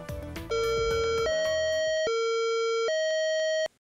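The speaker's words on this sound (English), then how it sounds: "When issued over the public announce system, the lockdown message sounds like this." Campus public address lockdown alert chime at Douglas College: a descending series of clear electronic bell tones, each held and ringing out, sounding loud and alone over a few seconds.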